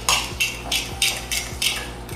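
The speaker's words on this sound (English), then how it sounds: "And then just give it a good stir." A spoon stirring cinnamon into a mixture in a bowl makes rhythmic scraping and clinking, about four quick, close strokes in steady succession with no talking.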